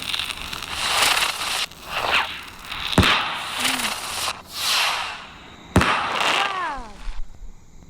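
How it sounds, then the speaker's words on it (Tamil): Diwali firecrackers go off outdoors: two sharp, loud bangs stand out among repeated hissing, crackling bursts, with a rising whistle or squeal near the end and faint voices in the background. "இப்போ எல்லா வெடி பண்ணு."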